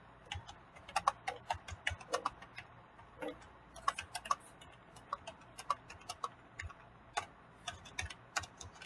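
Irregular bursts of quick keystrokes on a computer keyboard, clicking in uneven clusters with brief pauses between them, close and moderately quiet against a faint low background hum.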